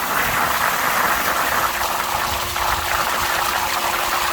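Backwash water gushing from a 16-inch VEVOR sand filter, a steady close splashing rush with a faint pump tone humming underneath, continuous and fairly loud with no talking.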